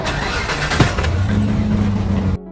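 A police car driving, its engine a steady mid-range hum with a brief rev near the start, close and continuous before cutting off abruptly.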